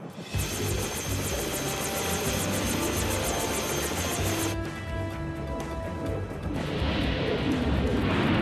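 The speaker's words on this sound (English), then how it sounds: "Engine noise. Funky rotor." Loud, steady mechanical drone of a cartoon helicopter's rotor and engine, with a high whining tone that cuts out partway through, continuous throughout.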